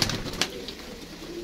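Sialkoti pigeons cooing on a rooftop loft, soft low murmuring coos running steadily through the moment with a couple of brief sharper bird sounds near the start, close and fairly quiet.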